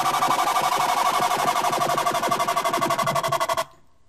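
A Massive scream synth patch with its LFO switched to a square wave plays a loud, harsh, buzzing tone chopped into rapid even pulses, holding steadily for about three and a half seconds before cutting off abruptly into silence.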